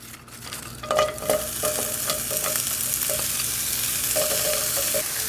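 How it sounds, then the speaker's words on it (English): Onions sizzle in avocado oil in a pan, a steady close frying hiss broken by several sharp scraping stirs early on and again near the end, with no voices. "Put a little avocado oil in my pan. And then in goes my onions."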